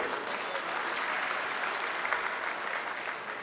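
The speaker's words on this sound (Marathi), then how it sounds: "हे सगळ्यांनी एकदा टाळ्या वाजवून या ठरावाला मंजुरी द्यावी" An audience at a teachers' gathering breaks into sustained applause to approve a resolution, a dense even wash of clapping that keeps going for a few seconds.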